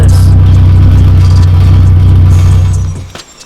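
A cheap project car's exhaust drones loudly with a steady low hum and a faint ticking texture for about three seconds before cutting off abruptly.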